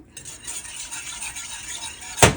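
A whisk scrapes and taps against a pot as half and half is stirred into broccoli cheddar soup, giving a soft, steady rhythmic swishing that ends with a sharp metallic clink.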